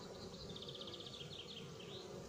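A constant low hum of many honeybees buzzing at a hive entrance, with higher buzzing passes weaving in and out over a busy droning background.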